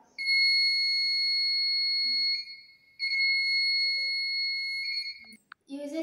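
A loud, steady high-pitched electronic buzzer tone from a sensor-triggered blind stick sounds continuously, breaks briefly, then resumes, ending with a short clatter.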